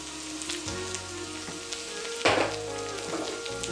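An ivy gourd curry mixed with sesame powder and salt is stirred in a pan, a soft crackling sizzle under repeated scraping strokes. One louder scrape comes midway, and no one speaks.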